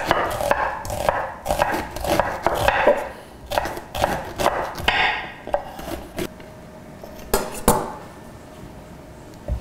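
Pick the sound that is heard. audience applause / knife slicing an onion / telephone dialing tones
knife slicing an onion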